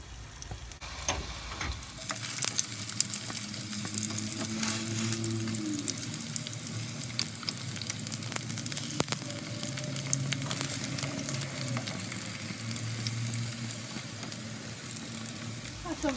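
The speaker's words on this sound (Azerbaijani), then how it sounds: "Yağ qızandan sonra kartofları oyuz-buyuz qızardırıq." Potatoes fry in butter in a pan, a soft steady sizzle with faint scraping and low rumbling beneath, starting quietly and then holding even throughout.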